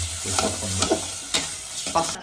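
Meat stirred into spice masala in a kadai sizzles and fries steadily, with a few scraping stirs of a spoon against the pan heard up close.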